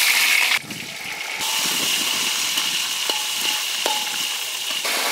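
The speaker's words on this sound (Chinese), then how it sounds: "锅里倒油炒调料" Seasonings sizzling in hot oil in a wok, a steady bright crackle close by with a few sharp clinks partway through, no voices.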